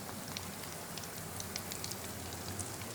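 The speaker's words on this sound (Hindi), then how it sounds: "ये देखें ये कबाब अब फ्राई हो रहे हैं" Potato chicken chapli kebabs fry in a pan, giving a dense, even sizzling hiss with fine crackles throughout, fairly soft and uninterrupted.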